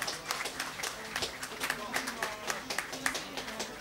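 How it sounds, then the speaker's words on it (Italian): An audience at an accordion gala in a dance hall claps in a steady, rhythmic patter of sharp hand claps while an announcer keeps talking over it. "forza, applauso, applauso"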